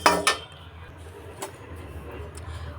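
Spices for sambar powder being dry roasted in a pan and stirred: a couple of sharp metallic clinks from the spoon up front, then a faint, quiet scraping and rustle.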